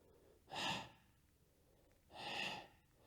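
Two audible breath exhalations during a Pilates mat exercise, each a soft airy whoosh of about half a second, separated by a pause, close and fairly quiet with no talking.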